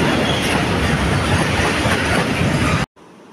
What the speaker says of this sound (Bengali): আর এই দিকে দেখতে পাচ্ছেন একটা মালগাড়ি যাচ্ছে, যতদূর সম্ভব এটাতে তেল যাচ্ছে